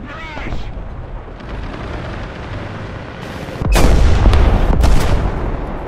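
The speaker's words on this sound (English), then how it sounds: "Our sector is under artillery barrage." Artillery barrage in a war video game: a steady low rumble of distant fire swells into heavier, louder booms in the second half, with sharp bursts of impact noise.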